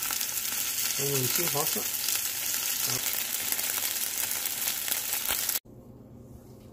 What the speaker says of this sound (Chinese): 锅里面这时加点植物油，将鸡片放入